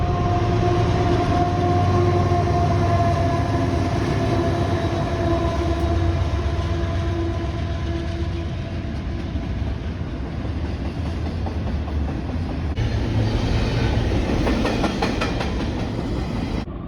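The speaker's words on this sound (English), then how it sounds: "At the depot platform, you can watch freight trains come by at random intervals." Freight train rolling past a depot platform in Wyoming, a loud continuous rumble with clickety-clack of wheels over rail joints and steady car noise throughout, swelling slightly near the end as more cars pass close by.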